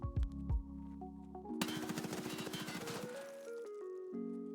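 Hip-fired bursts from an HK rifle in a shooter video game crackle in a dense, rapid volley for about a second and a half, framed by sustained tonal game sounds before and after, with no voices.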